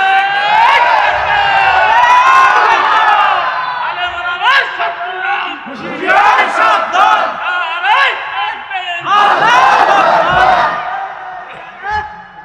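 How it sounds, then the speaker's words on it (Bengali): A large crowd at an open-air Islamic religious sermon gathering in Chilmari, Bangladesh, chanting a takbir in loud, repeated collective shouts that rise and fall in waves, with a voice leading the call. "দেন দেন দেন তাকবীর দেন"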